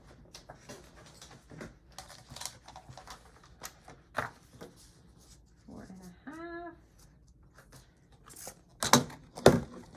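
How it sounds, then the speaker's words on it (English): Paper being cut out with scissors for a mini flip-book album, a string of short close snips and crisp rustles, with a brief voice partway through and louder handling noises near the end. "So let me cut this out really quickly."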